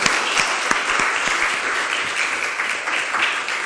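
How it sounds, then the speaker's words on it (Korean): A church congregation at a Sunday service claps steadily, a dense, even patter of applause with no voices standing out. "박수 한번."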